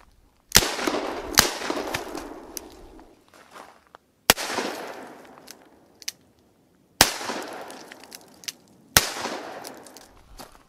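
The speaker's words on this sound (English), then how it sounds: "What a 44 mag does to some ceramic plates." .44 Magnum revolver fired at ceramic armor plates: four loud, sharp reports spaced a couple of seconds apart, each trailing off in a long ringing echo, with lighter clicks and impacts between them.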